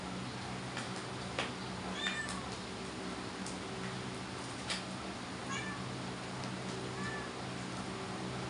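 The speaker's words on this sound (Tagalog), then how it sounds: "Ano naman yung pusa namin na maingay." A noisy pet cat meows several times, faint and somewhat distant, over a steady hum of background noise with no talking.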